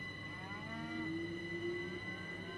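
A cow moos in the Train Sim World 6 railway simulator, with a long low bellow over a steady hum of train and ambient game noise. No one speaks.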